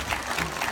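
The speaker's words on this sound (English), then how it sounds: "Give her a round of applause for me" Audience applause at a sea lion show in a safari park, a brief dense burst of clapping from a crowd close by.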